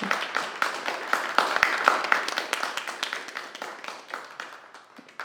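Audience at the Fierté littéraire 2023 literary evening applauding, a sparse patter of individual claps, quiet and fairly close, tapering off over the last seconds.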